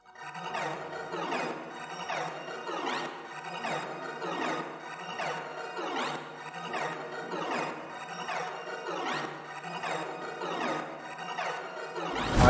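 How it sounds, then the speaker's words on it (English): Dark synth melody from an Electra X preset called Art from Another World, looping repeated plucky notes with bright, dense harmonics in a steady rhythm, heard alone at moderate level with a brief low thump at the end. "And I found this crazy preset called Art from Another World from Ocean Vogue"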